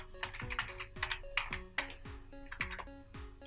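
Quick bursts of keystrokes on a computer keyboard as a Wi-Fi network name is entered, close and crisp in short uneven runs, with no voices.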